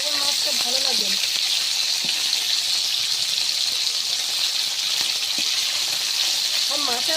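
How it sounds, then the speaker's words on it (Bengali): Whole bata fish with roe frying in hot oil, giving a loud, dense, continuous sizzle that runs close and unbroken throughout. Faint voices and light clinks of utensils show through beneath it. "প্রথমে 4-5টা বাটা মাছ দিয়েছিলাম, সে মাছগুলো কিন্তু ভাজা হয়ে গিয়েছে"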